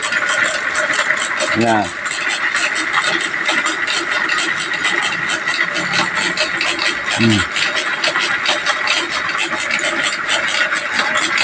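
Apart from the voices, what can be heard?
homemade 48V to 72V electric bicycle motor running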